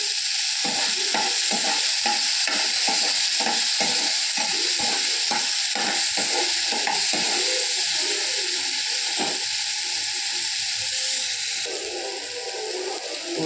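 Tomato, garlic cloves and dried red chillies fry in a pan with small onions and rock salt, a steady loud sizzle broken by repeated scraping stirs through the first half, then a continuous hiss.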